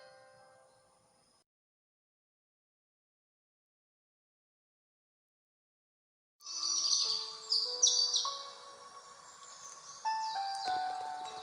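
Birds chirp and sing in a bird park, a brief faint call at the start followed by silence, then a lively burst of overlapping bright tweets and trills close by, no talk.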